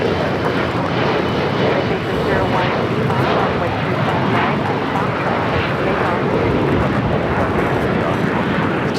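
A Boeing 747 jet airliner takes off at Los Angeles LAX, a loud, steady broadband engine roar that holds throughout, heard up close and alone.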